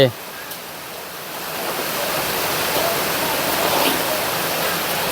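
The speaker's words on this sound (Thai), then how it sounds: "น้ำนองเต็มซองตะลิ่ง" Heavy rainwater floods and overflows a roof gutter, making a dense, steady rushing roar that builds slightly and holds without pause.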